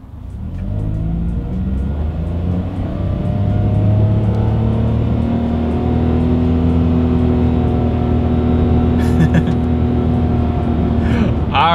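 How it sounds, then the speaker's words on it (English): A 2021 Mitsubishi Mirage accelerating hard, its small engine droning steadily louder and rising in pitch over about twelve seconds, heard from inside the cabin with no talk. "let's do a quick little acceleration test here, and let's see how quickly we can get the new Mirage here up to speed"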